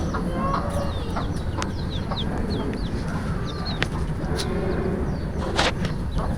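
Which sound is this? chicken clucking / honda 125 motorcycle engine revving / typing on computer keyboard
chicken clucking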